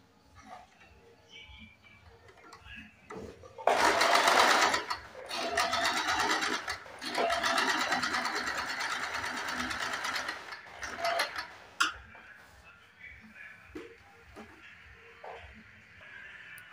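Sewing machine stitching a belt-style blouse with four tucks, running in a steady loud whir for several seconds, then slowing to short bursts and clicks with a voice speaking softly under it.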